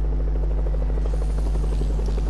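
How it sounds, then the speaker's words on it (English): A helicopter in the Fortnite video game drones with a steady, loud rotor buzz and rhythmic blade chop, close and constant for the whole moment, with no voices over it. "jumps out of his helicopter"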